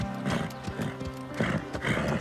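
A cartoon horse gallops with rapid clip-clop hoofbeats and lets out neighing whinnies, loud and close, in a show-jumping riding scene.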